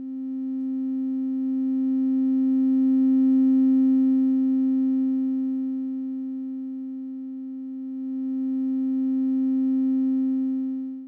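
A steady pure sine tone with faint harmonics holds alone throughout, its loudness swelling upward then dipping and rising again as the volume is raised and lowered.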